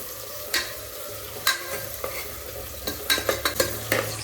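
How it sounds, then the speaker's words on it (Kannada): Tomato and onion frying in a pan for biryani gravy, a steady sizzle with repeated sharp scrapes and clacks of a spatula stirring, several quick strokes bunched toward the end, no talking. "ಸೊ ಟೊಮೊಟೊ ಮತ್ತು ಈರುಳ್ಳಿ ಎರಡು ಫ್ರೈ ಆಗ್ತಿದ್ವಲ್ವಾ."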